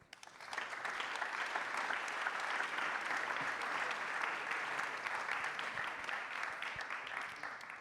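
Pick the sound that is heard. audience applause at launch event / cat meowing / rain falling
audience applause at launch event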